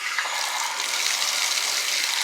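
Steady hiss of water streaming from a shower head into a small water pump generator, a continuous broadband rush with no voices.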